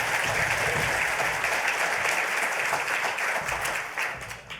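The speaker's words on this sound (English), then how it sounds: "thank you so much for that rapturous applause" Steady applause from a large conference audience fills the space as a speaker takes the stage, dense and continuous, fading slightly toward the end.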